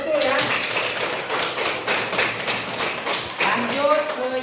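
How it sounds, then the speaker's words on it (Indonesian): Hands clapping in a school classroom, a dense burst of claps mixed with children's voices and chatter that carries on throughout. "Tepuk tangan, betul ya."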